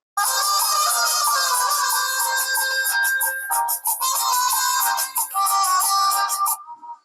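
Music played through a bare speaker driver with no protective resistor, giving a thin, bright, treble-heavy sound with no bass, steady and fairly loud for about seven seconds before cutting off.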